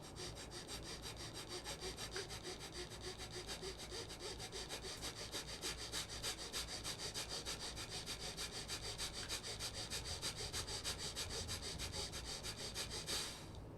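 Rapid rhythmic breath work, fast steady cycles of forceful in-and-out breathing through the nose and mouth, close to the microphone and continuous, with no talking.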